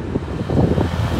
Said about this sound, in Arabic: مدينة تطوان كاين شوية ديال الريح، تحرك شوية ديال الريح